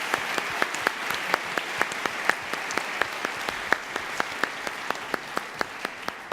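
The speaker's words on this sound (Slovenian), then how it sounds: "zaploskajmo še enkrat finalistom za Slovensko gazelo" An audience at the Slovenska gazela 2018 award ceremony applauding the finalists, steady rhythmic clapping in unison with sharp regular beats filling the hall, no talk.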